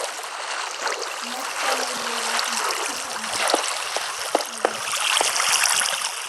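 Flowing water in the Minecraft video game, a continuous rushing trickle with faint clicks and soft tones over it, steady and close.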